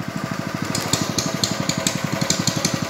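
A boat motor on the Amazon river chugs past close by, a rapid, steady putter of regular engine pulses with a rough mechanical rattle and no voices.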